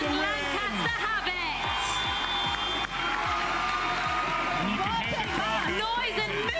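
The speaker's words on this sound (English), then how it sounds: "Noise and movement from the crowd." Crowd at a Roses 2024 basketball game, a loud continuous roar of cheering and movement from the stands, with voices and whistle-like tones rising over the steady din.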